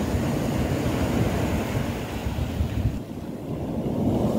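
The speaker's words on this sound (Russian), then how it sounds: "Просто без лишних слов посмотрим на море, на волночки." Black Sea waves wash onto a fine-sand beach at Uchkuevka near Sevastopol in winter, a continuous loud surf roar mixed with heavy wind buffeting and no speech.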